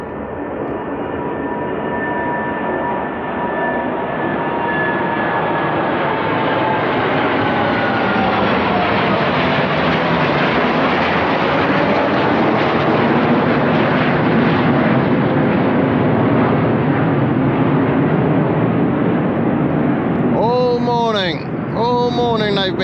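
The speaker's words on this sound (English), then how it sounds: "And the planes are coming, so get ready for the noise." Jet airplanes pass low overhead near a boatyard, a loud roar building and sweeping in pitch for about twenty seconds, with a voice breaking in near the end.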